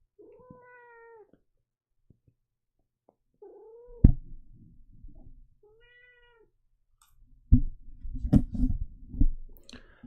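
A cat meows several times with clear, rising-falling calls, close and fairly loud, separated by short pauses and followed by clicking and rustling handling noises toward the end.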